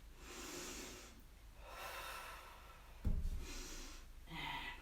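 Breathing during a Swiss ball exercise class, soft drawn-out exhales repeated several times, close and quiet, with one sharper snort-like breath midway.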